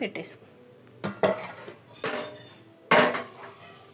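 Metal pan and lid clattering while sweet kaja are cooked and then covered: several sharp, ringing clanks and scrapes in bursts about a second apart, loud and close with no talking.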